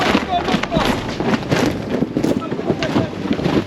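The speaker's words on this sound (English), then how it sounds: "the wind's picking up" Strong wind on a sailboat at sea during a storm roars and buffets against the microphone in uneven gusts, with voices mixed into the noise.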